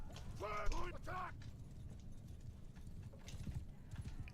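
Horse hooves clip-clop at a gallop during a video game battle, a rapid, busy rhythm under game noise, with a brief whinny near the start.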